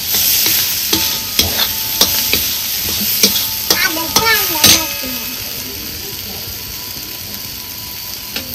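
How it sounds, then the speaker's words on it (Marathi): Onion and green chili sauté in a hot pan with turmeric: a loud, close, continuous sizzle broken by repeated sharp spoon taps and scrapes against the metal. "आता ही कांदा आणि मिरची चांगली परतून घेतली"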